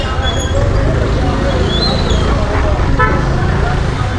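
Busy street traffic near the Wagah Border in Amritsar: a constant loud roar of engines and road noise, with brief car horn toots, and people talking nearby over the din.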